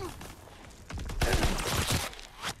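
Grease gun submachine gun firing in Call of Duty WWII, a loud burst of rapid automatic shots rising over background game noise, then cutting off with a final shot near the end.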